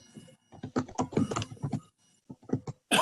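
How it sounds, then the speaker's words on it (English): Someone typing on a computer keyboard, a quick irregular run of close, crisp key clicks that pauses briefly and then resumes with a few more taps. "Here's somebody typing."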